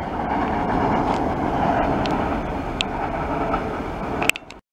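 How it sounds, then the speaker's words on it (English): A train rumbles steadily over the Meadowbank rail bridge, a broad continuous roar with occasional metallic clanks and squeals near the end before it cuts off abruptly. "Train."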